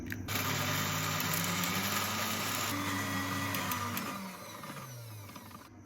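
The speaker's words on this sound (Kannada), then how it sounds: "ಇವಾಗ ಇದನ್ನು ಫೈನ್ ಪೇಸ್ಟ್ ಆಗಿ ಗ್ರೈಂಡ್ ಮಾಡ್ಕೋಬೇಕು" A mixer grinder running steadily and loudly, grinding spices with hing, turmeric and warm water into a fine paste for sambar, a continuous whirring drone that winds down slightly near the end.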